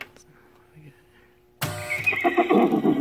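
A horse neigh sound effect played by an electromechanical pinball machine bursts in loudly after a quiet stretch with faint clicks, a single whinny over mechanical game noise.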